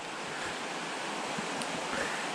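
Water in a creek in the Pennsylvania Laurel Highlands rushes steadily as a broad, even hiss of flow, close and constant throughout with no talking.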